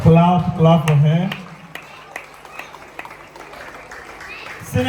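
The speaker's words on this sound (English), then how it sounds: "let's clap for our protocol prefect" A crowd at a school prefect ceremony breaks into applause right after a speaking voice, a soft, scattered patter of clapping that fades to a low, steady murmur.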